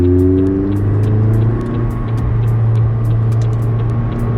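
A McLaren 600LT drives a warm-up lap at the Paul Ricard circuit, its engine droning loud and steady with gear changes and rising revs. The sound comes from inside the cabin and no one talks.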